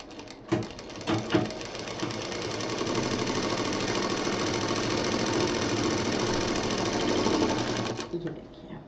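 A sewing machine runs steadily while stitching a handmade fabric pouch, its motor whirring in a continuous rapid stitching rhythm after a few short starting bursts, close and fairly loud.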